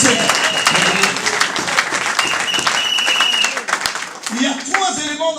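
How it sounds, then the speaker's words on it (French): A church congregation in Rotterdam claps and cheers loudly at a worship service, with vocal shouts and voices mixed into the dense applause. "een hard applaus"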